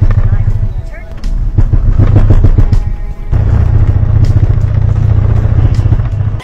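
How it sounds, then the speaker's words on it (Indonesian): Loud, close engine drone from a CVT automatic car with a broken steel belt, the low rumble shuddering and pulsing unevenly, briefly surging and dipping as the car jerks and vibrates. "mobil menjadi tersendat dan bergetar seperti ini guys"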